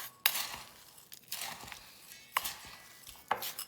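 Glass bowl of bath salt ingredients being stirred with a spoon, with scattered sharp clinks of the spoon against the glass and soft grainy scraping between them, close up and without talk.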